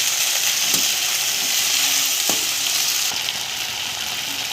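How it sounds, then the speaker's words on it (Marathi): Noodles frying in a pan with soy sauce, red chilli sauce and tomato sauce, a steady close sizzle running throughout with a few faint stirring clicks, no talking. "आपण हे छान फ्राय करणार आहे."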